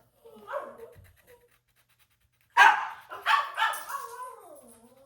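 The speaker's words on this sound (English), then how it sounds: "So my dogs will quit barking." A dog gives a short yip, then after a pause several loud barks and howling yelps follow in quick succession, close by.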